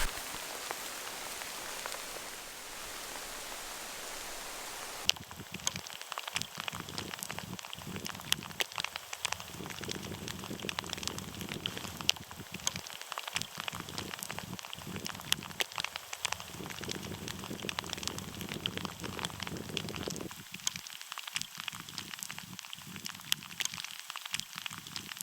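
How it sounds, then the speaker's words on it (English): Rain falling on a backpacking trip on the Mogollon Rim, a steady patter of drops that gets denser and louder after a few seconds and keeps going with no talk. "This rain is just sort of a constant on and off."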